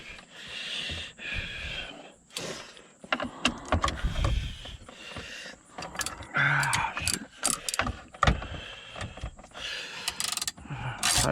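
Ratchet turning bolts on a Hummer H2 gearshift assembly, a series of short clicking bursts under other handling and rustling noises.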